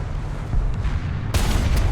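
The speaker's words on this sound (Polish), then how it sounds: "Musi strzelić. O właśnie, strzelił." A German Tiger tank's cannon fires in the War Thunder game, heard from a Finnish T-34-85: one heavy, sharp boom about two-thirds of the way in, breaking through a steady low engine rumble.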